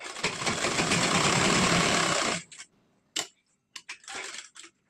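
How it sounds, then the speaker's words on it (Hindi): Sewing machine stitching a blouse button placket, running in a steady fast whirring buzz for about two seconds, then stopping, followed by a few short clicks and brief spurts of stitching, close and clear with no talk. "बटन पट्टी को इस तरह से पकड़ेंगे और मोड़ के हमें सिलाई लगाना है"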